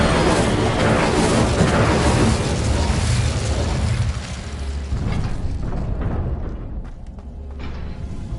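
A fire spell, Incendio, bursts in a Harry Potter video game as a loud, broad whooshing blast that gradually fades into a softer crackling tail, with no one talking.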